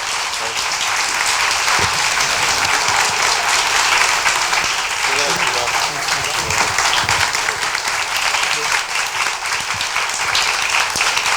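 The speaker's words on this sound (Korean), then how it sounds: "박수로 이 자리를 마무리하겠습니다." Audience applause closes a Korean live interview talk show with Seoul mayor Park Won-soon, with steady clapping from a crowd sustained for the whole stretch at an even level.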